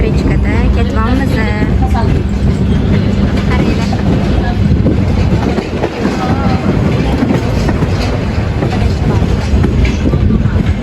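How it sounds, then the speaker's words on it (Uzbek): An electric commuter train travelling out of Tashkent rumbles and clatters loudly and continuously over the rails, with people talking close by inside the carriage. "Endi hozir mana shunaqa elektrichkada ketyapmiz."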